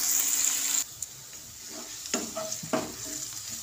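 Chopped onion sizzles steadily in a pan of hot oil for a chicken dish, with a loud hiss at first, then quieter frying broken by a few sharp stirring scrapes.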